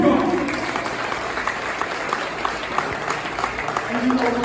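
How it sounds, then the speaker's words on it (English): Audience at an academy gathering applauds, a steady wash of many hands clapping at moderate loudness, with a few distinct claps and some voices mixed in, swelling slightly toward the end. "Round of applause for God"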